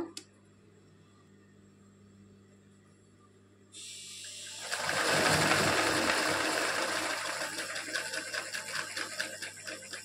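An embroidery sewing machine starts up after a quiet moment and stitches at a slow, steady pace, its needle mechanism whirring and rattling loudly and close by.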